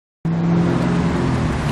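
A 704 route bus passes on the Gold Coast in light rain, a loud steady engine roar with tyre hiss that starts abruptly and holds close by without fading.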